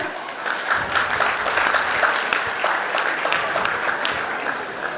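A crowd claps steadily and enthusiastically for several seconds at an annual function, a dense continuous patter of many hands with slight swells in intensity.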